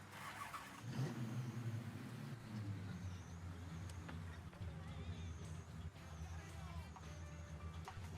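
A car engine in Mafia 3 revs and rumbles steadily for several seconds, low and quiet with occasional clunks and ticks, while a voice talks over it.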